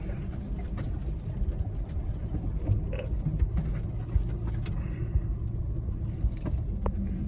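Four-wheel-drive truck rolling along a bumpy wooded track in autumn, a steady low engine rumble with rattles and jolts throughout, no talking.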